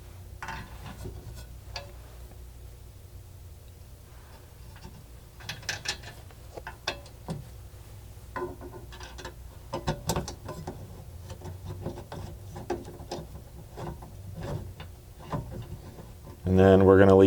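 Ratchet wrench tightening bracket bolts while installing a rear cargo basket on a four-door Ford Bronco, bursts of quick clicking in short runs with pauses, close and moderately loud, someone speaking at times.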